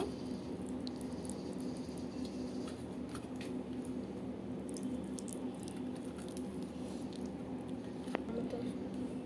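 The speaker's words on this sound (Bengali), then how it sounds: "এবার এগুলির মধ্যে হলুদ লবণ মেখে নেব" Boiled snail meat is mixed by hand with turmeric and salt, soft wet squishing and light pattering close up, quiet and continuous.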